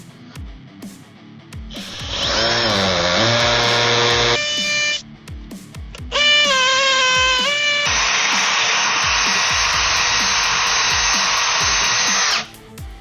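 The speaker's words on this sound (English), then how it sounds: "the metal bits that I had were not cutting through this metal plate at all in a timely fashion" A power drill bores through a metal mounting plate for racing-seat pedals, giving three long, loud, whining bursts whose pitch rises as the motor spins up and steadies, with short pauses between them.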